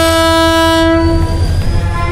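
A train horn blares loud and steady at close range, a sustained harmonic blast lasting about a second before giving way to the rumble of the passing train.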